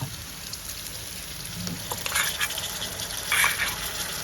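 Boiled beetroot pieces fry in hot oil in a pan for a coconut beetroot fry, with a dense, steady crackle and sizzle. It rises a little toward the end, with no talk over it.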